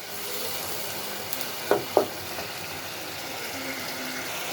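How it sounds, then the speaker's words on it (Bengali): Dried fish (shutki) sautés in cooked spice paste with a soft, steady sizzle, broken by two brief clattering knocks of a spatula against the pan. "শুটকিগুলো কিছুক্ষণ কষিয়ে নেব"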